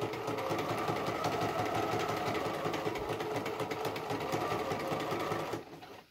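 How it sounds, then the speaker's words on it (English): Close, loud sewing machine top stitching down a bag pocket, a continuous rapid mechanical chatter at steady speed for over five seconds before stopping abruptly. "And just top stitch it all the way down."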